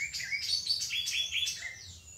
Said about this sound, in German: die Vögel im Hintergrund könnt ihr